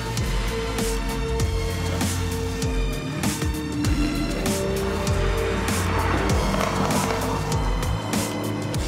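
A tuned 800-horsepower Lamborghini Huracan drives on the road, its engine roaring loudly and steadily throughout with rising and falling revs and shifting pitch, heard close up with no talk.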